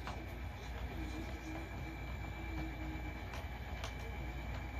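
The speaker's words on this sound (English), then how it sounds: "And we're just going to pull our train past the other signal." A train pulls slowly past a signal on an industrial line near a spur switch, giving a steady close rumble with faint wheel squeal and soft rail clicks throughout.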